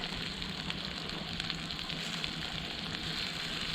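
Roasted green chilies sizzle steadily in a wok over a campfire, a dense, even crackling hiss that stays close and constant throughout.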